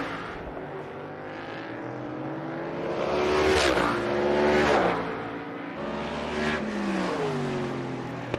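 Supermodified race cars roar around an oval track, their engines rising and falling as several cars sweep past in overlapping waves of loud revving.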